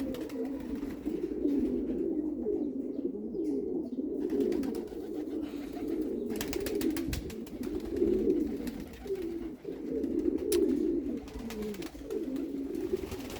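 Low, throaty cooing from several pigeons rolls on continuously, close and fairly loud, with occasional flutters and small rustles.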